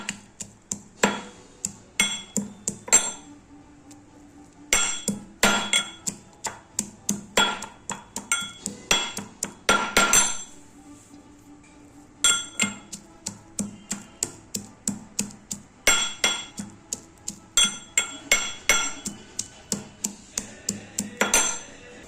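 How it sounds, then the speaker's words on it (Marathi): Garlic cloves being crushed with a pestle in a kitchen for a tomato thecha chutney: many sharp, regular pounding knocks in quick runs with short pauses between them, close and fairly loud, with no talking. "इकडे हा लसूण ठेचून घ्यायचा आहे."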